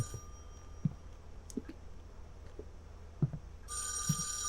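An old telephone bell starts ringing near the end in the horror video game [REC]Paroxysm, loud and bright after quiet footsteps and faint creaks in an empty locked building.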